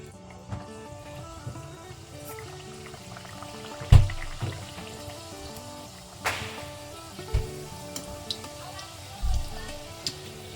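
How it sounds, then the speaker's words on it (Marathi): Karanji pastries frying in hot oil in a home kitchen, a low steady bubbling sizzle broken by a few sharp clinks and splashes as pieces go in, with faint music or noise underneath. "आपल्या करंजा फटाफट अशा तळून घेऊयात"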